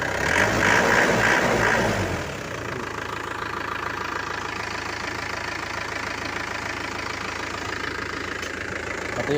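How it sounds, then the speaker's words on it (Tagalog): Isuzu Crosswind diesel engine idling steadily close by after a low-power fault, a continuous even rumble with a louder, rougher burst in the first two seconds before it settles. "Wala na yung palag ng makina"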